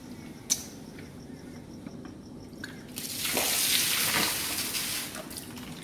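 Water gushes steadily into a bucket from a pump flushing plastering equipment for a few seconds, following a quiet stretch with a few faint drips and clicks.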